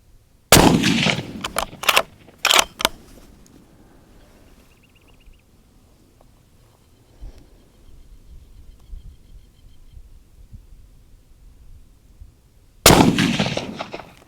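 A rifle rested on a BOG DeathGrip shooting tripod fires several sharp, loud gunshots outdoors, a cluster of cracks early on with echoing tails, a long quiet pause, then one more blast.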